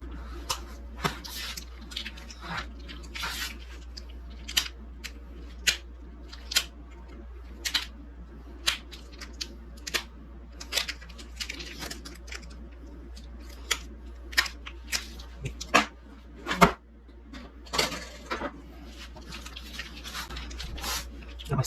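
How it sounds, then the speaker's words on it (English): A knife is sharpened while preparing pork for smoking, with a string of quick scraping strokes in an uneven rhythm over a low steady hum. "I need to sharpen this knife."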